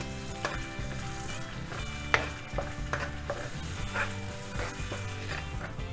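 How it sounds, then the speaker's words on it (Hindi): Masala for Hyderabadi paneer masala frying on medium flame, a steady sizzle with repeated rhythmic scrapes of a spoon stirring through the pan and no voices. "इसे मीडियम फ्लेम में अच्छे से भूनते हैं"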